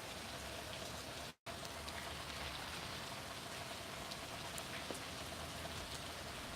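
Heavy rain pouring down during strong gusting wind, a dense, steady hiss of falling drops that is faint and constant apart from a brief cut, with no talk.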